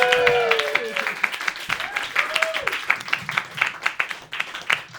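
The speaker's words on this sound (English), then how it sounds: "Start clapping for Reggie Kush." A comedy club crowd at a New York roast battle event claps and applauds, a dense patter of hands with scattered whoops, while voices and calls ring out over the top.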